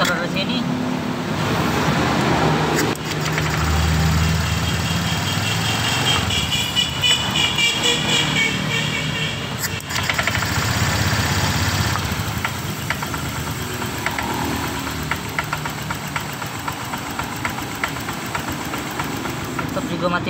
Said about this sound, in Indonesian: Kita hidupkan ya motornya.